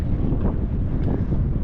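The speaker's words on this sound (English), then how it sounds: "It'd be nice if the wind died down" Steady wind buffeting a small fishing boat drifting at sea off California on an overcast, foggy day, a continuous low rumble close to the microphone with no voices.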